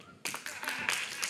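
A studio audience at a comedy show breaks into applause that begins abruptly and holds as a dense, bright wash of clapping for about a second, with a voice faintly mixed in.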